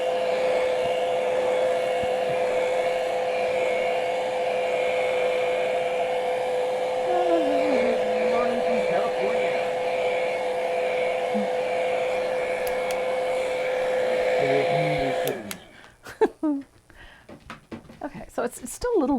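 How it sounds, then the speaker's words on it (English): A heat gun drying paint on a painting blows with a steady, loud whining hiss for about fifteen seconds, then cuts off; a voice talks over it. "I'm going to quickly dry this. Doesn't take very long to dry, not when you're using a heat gun."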